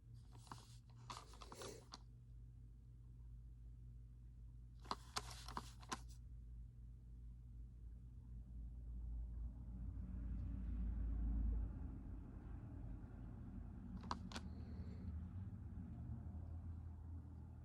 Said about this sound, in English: Got the lunch traffic going on right now.